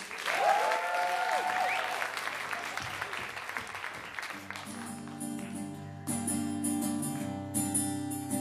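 An audience at a college music showcase applauds a singer with a dense, sustained round of clapping that fills the room, after which music with sustained tones enters partway through while the applause fades.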